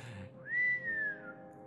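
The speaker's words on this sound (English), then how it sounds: "Just keep whistling and that aurora will, just like, you can almost hear it." A single person whistles one smooth, sustained note that rises briefly and then slowly falls away, clear and fairly close in a quiet setting.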